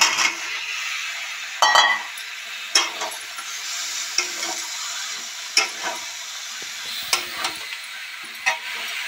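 Boiled jackfruit and potatoes being stirred into spices fried in oil for a jackfruit gravy, with a steady sizzle and repeated scraping clinks of a spoon against the pan, close by and with no talking.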